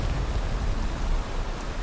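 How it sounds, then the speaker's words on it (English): Steady rain falling in the Viking survival game Valheim, a constant soft broadband hiss of drops with no talking over it. "And obviously it's still raining in this game"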